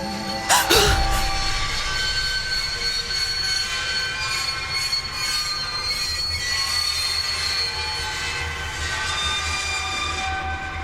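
Train wheels squeal loudly as a train brakes to a halt in a German-language audio drama, a sharp screech up front settling into a sustained metallic whine and low rumble that fades to a steady hum.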